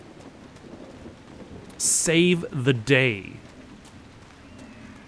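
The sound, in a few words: rain in the video game Dragon Age: Inquisition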